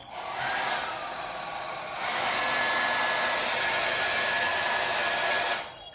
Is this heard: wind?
no